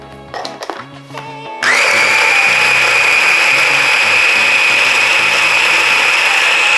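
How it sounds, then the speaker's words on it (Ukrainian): After a few quiet kitchen clatters, a blender roars to life and runs at a loud, steady high whine, chopping garlic with coriander, Italian herb mix and salt into a dressing for baked zucchini. "Тепер беремо блендер і гарно все подрібнюємо."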